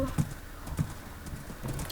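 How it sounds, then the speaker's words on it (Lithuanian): Horses at a rural farm with cows and rabbits nearby, hooves clip-clopping in a few spaced thuds, fairly quiet and close, with faint bird calls in the background. "Arkliai, daug daugiau arklių"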